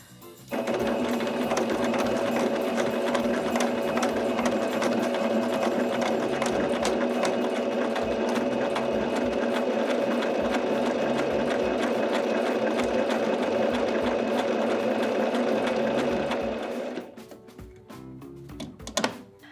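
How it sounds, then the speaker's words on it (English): A sewing machine runs steadily, stitching a fabric hem with a double needle: a loud, even motor whir with fast needle chatter that holds for about seventeen seconds, then stops, leaving a few faint handling clicks. "I'm going to stitch right here on the top side of my fabric."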